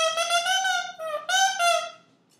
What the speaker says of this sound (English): And so the two pieces vibrate together to make the bassoon sound.